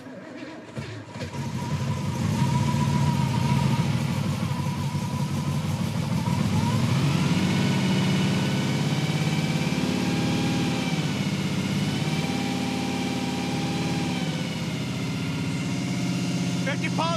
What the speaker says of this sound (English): We have a cam break-in that we need to do with our new camshaft here, so we gotta just let her scream for about 20 minutes or so.